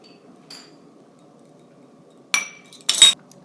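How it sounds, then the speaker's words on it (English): Ceramic ramekins coated with cheese clink sharply a few times as they are handled and twirled, with two bright strikes close together near the end over a quiet kitchen background. "You can twirl the ramekins like this if you want to get the cheese on all the sides"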